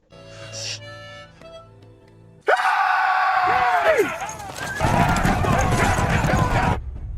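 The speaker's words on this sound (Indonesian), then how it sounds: "Hentakan kaki ratusan kuda terdengar, membuat warga yang ikut berperang bergetar." Hundreds of horses charge in a battle against a village, their loud hoofbeats a dense, continuous rumble that bursts in suddenly after a quieter stretch of music and holds to the end.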